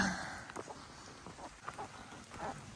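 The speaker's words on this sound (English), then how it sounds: "it can't decide whether it's going to keep raining or not" Light rain falling on the Appalachian Trail, a faint, soft patter of scattered drops over a quiet background, heard alone.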